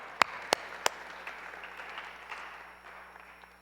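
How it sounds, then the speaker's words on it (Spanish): Church congregation applauding during a Spanish-language sermon, opening with three sharp close claps, then a softer spread of clapping that gradually fades out. "Den un aplauso fuerte al Señor."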